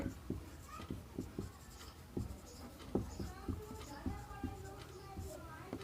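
Marker or chalk squeaks and taps on a board during a class 9 math lesson on polynomials, coming in short strokes while a teacher talks over them.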